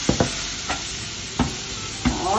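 Finely chopped tomatoes tossed into a hot pan of pav bhaji masala, a loud steady sizzle broken by several sharp spatula stirs and scrapes, with no voices.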